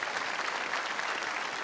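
Steady applause from a church audience during a Catholic program, a dense continuous clapping that fills the whole short moment at moderate loudness, with no voices rising above it.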